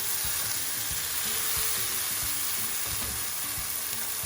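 Tomato frying in a pan for an eggplant and potato curry gives a soft, even hiss of sizzling oil, with faint low knocks of a spoon stirring at an irregular pace and no talking.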